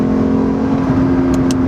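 A 2022 Lexus IS500 V8 sedan kicks down and accelerates, a strong steady engine drone with a pronounced low hum heard from inside the cabin, loud and continuous without talk.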